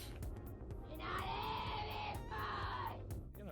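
A woman's high, sustained scream in a disturbing audio recording comes in two long bursts, loud and strained, over a noisy background.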